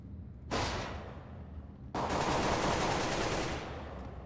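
Gunfire in CS:GO on the Cache map: a sudden burst of rapid automatic shots close by, then a second, louder sustained burst after a short gap, with no talk over it.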